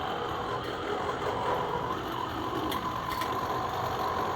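A mud truck's fuel pump runs on the bench with a steady, faint mechanical hum and whir, even and unbroken, with no talk over it.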